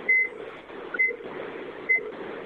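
A phone beeps several times during an obstetrical emergencies presentation, with short electronic tones repeating at roughly one-second intervals over the faint hum of a room.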